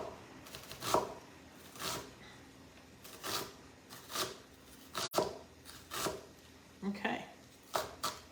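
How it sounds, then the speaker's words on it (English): A knife slices and dices vegetables for an Italian beef stew, making soft, regular cutting strokes about once a second against a cutting board. "slicing and dicing."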